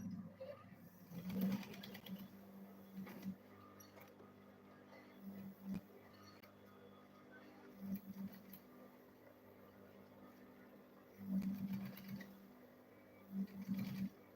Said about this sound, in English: Then I'll go ahead and sew it also here.